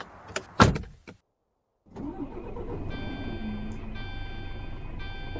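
A Scania 113 truck in Euro Truck Simulator 2 starts up after a couple of clicks and a short pause, its engine catching and settling into a steady idle while a warning tone beeps intermittently.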